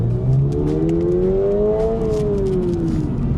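Subaru BRZ sports car with automatic transmission and naturally aspirated engine accelerating, its rising engine note climbing steadily in pitch, then easing off as revs fall, loud and close with road and cabin noise underneath.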